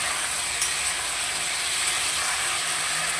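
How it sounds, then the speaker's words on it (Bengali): Spice masala of ginger and cumin for a fish curry sizzles in a pan, giving a steady, close hiss that continues evenly with no talking. "ভালো করে একটু কষিয়ে নেবো যাতে আদা জিরের গন্ধটা না থাকে"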